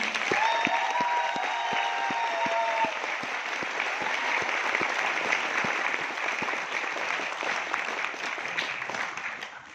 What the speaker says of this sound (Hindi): तो एक बार संजय सर के लिए जोरदार तालियां हो जाए।